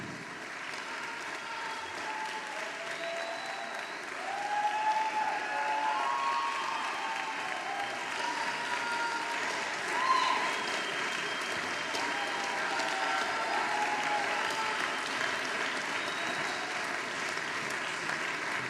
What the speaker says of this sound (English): the charge of our string players back onto the stage for much deserved applause and appreciation from the very warm hands of our audience